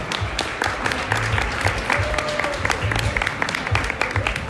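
Audience applause at a dog show in Moscow, a dense, steady wash of many hands clapping throughout, loud and fairly close, with faint voices mixed in underneath.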